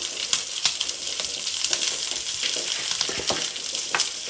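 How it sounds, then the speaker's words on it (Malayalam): Green chillies, onion and shallots fry in a pan for a ridge gourd theeyal, giving a loud, continuous sizzle broken by scattered clicks and scrapes of stirring. "മുളകും ചേർത്ത് കൊടുക്കാം കൂടെ കൊച്ചുള്ളി ഇട്ടിട്ടുണ്ട് പിന്നെ നമുക്ക് പച്ചമുളകും സവാളയും കൂടി ആഡ് ചെയ്യാം"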